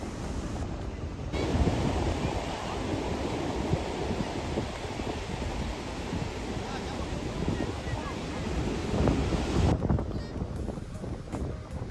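Sea waves roll and wash continuously at Puri Beach, Odisha, under gusty wind buffeting the microphone, a loud steady roar with swells rising and falling and no clear talk.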